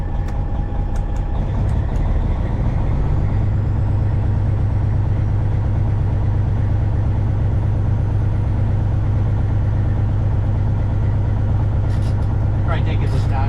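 A cabover truck engine idles steadily with a strong low rumble and a constant drone throughout, some faint rattles and clicks near the end, with no speech over it.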